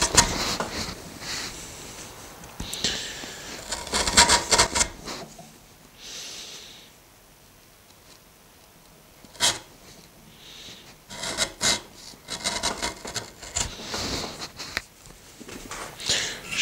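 A freshly sharpened wood chisel pares into solid wood in short, close scraping and rasping strokes, coming in irregular bursts with brief quiet gaps between them.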